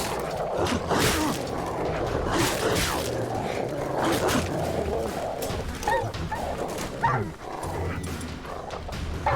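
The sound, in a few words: dogs barking in The Witcher 3 video game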